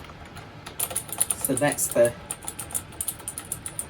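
Clicky Cyan switches on a PowerPlay mechanical gaming keyboard clatter in a quick run of sharp keystrokes, close and fairly loud, while someone briefly speaks over the middle of it.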